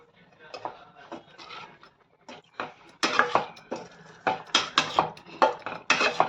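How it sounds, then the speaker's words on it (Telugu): A spoon scrapes and clinks against a pot while paneer is stirred into dum biryani, in short repeated strokes that start faint and grow louder and busier. "సో ఇప్పుడు నేనైతే దాంట్లో పన్నీర్ యాడ్ చేస్తాను. సో చూసారా ఈ విధంగా మొత్తం మిక్స్ చేసేస్తాను."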